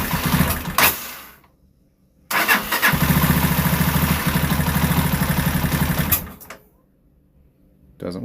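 A Lexmoto Isca 125 motorcycle engine cranks and catches, runs roughly for a few seconds with a rapid uneven pulse, then bogs and cuts out, with brief bursts of activity before and after.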